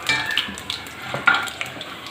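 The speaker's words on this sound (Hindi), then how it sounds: "जी राई को हल्का सा कड़कड़ा के अब इसमें डाल रही हूँ जी ये मेथी दाना है जो मैंने लिया है 1 टेबलस्पून।" Mustard seeds and fenugreek seeds sizzle and crackle in hot oil for a raw mango pickle, with light stirring and a few sharp pops over a steady close frying hiss.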